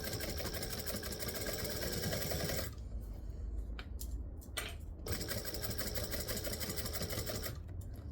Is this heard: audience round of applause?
no